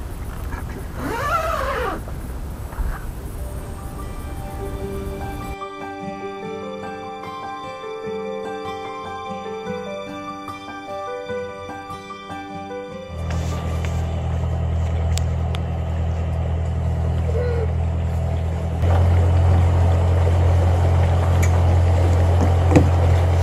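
Small boat outboard motor starting and running on a Dutch canal trip toward Gouda: after a quiet stretch, a steady low engine drone kicks in and keeps going, growing a bit louder, alone with no talk.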